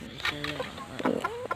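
Hens clucking in short, uneven bursts close by, with a few rising calls and some background voices.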